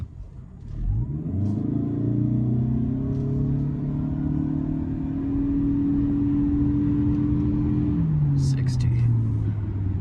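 A 2025 Toyota Camry XLE AWD hybrid accelerating hard from a standstill in a 0-60 run, its engine note rising and holding a steady drone inside the cabin before easing off near the end.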